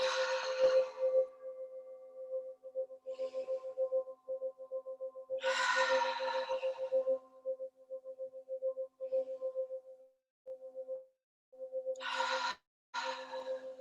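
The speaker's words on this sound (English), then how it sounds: "We'll take a few breaths here in a strong Tadasana. Inhaling and exhaling." Slow, deep yoga breaths taken in a strong Tadasana standing pose, a few soft inhales and exhales near the microphone separated by pauses, with a faint steady tone underneath.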